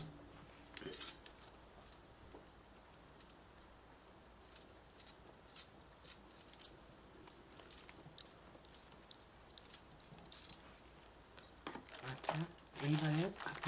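Close ASMR brush strokes sweep in quick, irregular crackly bursts with soft bristly scratches between them, while a voice talks quietly throughout.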